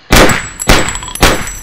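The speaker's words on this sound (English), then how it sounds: "There's one sound that that's actually like 5 or 6 sounds combined for each gunshot." A short-film gunshot effect built from several layered sounds fires three times in quick succession. Each shot is a loud, sharp, close crack with a metallic ringing tail.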